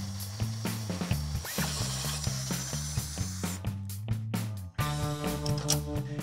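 A ratchet wrench tightens grade 5 bolts through drilled holes while fastening a truck bed in place, its rapid rhythmic clicking repeating in short bursts close by, with a brief pause near the end.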